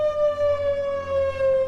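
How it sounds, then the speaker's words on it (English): Tornado warning siren in Illinois, a steady sustained wail held at nearly constant pitch, rising and falling a little in loudness, sounding alone without voices. "not only can our dispatch center set off the sirens"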